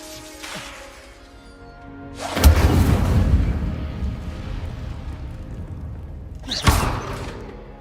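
Hogwarts Legacy's Incendio fire spell bursts out twice, each a whooshing, thudding blast of flame that roars and crackles for a few seconds before fading, the second eruption following about four seconds after the first.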